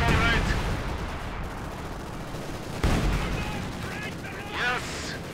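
Battle gunfire in the Company of Heroes 2 video game during a Red Army fight at the Poznan Citadel: sharp bursts of shots, with a heavy crack near the middle, mixed with shouted in-game voice lines.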